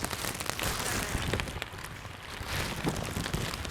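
Rain falling steadily outdoors during a fishing trip, a dense close hiss of drops pattering on surfaces with no talking.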